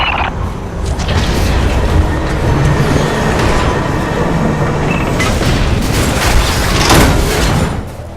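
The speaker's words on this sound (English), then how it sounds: "Heavy cargo tram is docked and ready." A heavy cargo tram in the video game Lost Planet 3 arrives with a loud, dense mechanical rumble and rolling clatter that continues steadily before easing off at the end.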